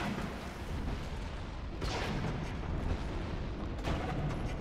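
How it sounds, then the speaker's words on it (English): Cannon fire in the Dark Souls 3 video game: two loud booming blasts about two seconds apart, each a sharp burst over a constant dense rumble of battle noise, with no talking. "The cannon shooting a tree?"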